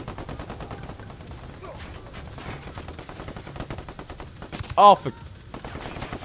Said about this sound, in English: Aim for the gun on the machine turret.